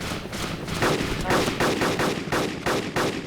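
Rapid gunfire from the ARMA 2 DayZ Epoch mod, a burst of closely spaced loud shots in a steady rhythm lasting nearly the whole stretch, with the shots getting stronger partway through.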